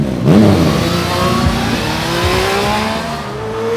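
A Triumph motorcycle engine at a World of Triumph track event revs up loud and close with a rising whine, then settles into a steady drone.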